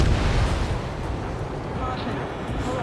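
A missile launched from a fighter jet in the Ace Combat 7 video game: a loud rushing roar that starts strongest and slowly fades into a sustained whoosh, with radio chatter over it.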